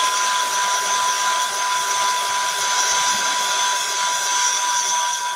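A dryer blows steadily to dry fresh stencilling, a constant loud whirring hum with a whine that stays even and unbroken throughout, with no voices.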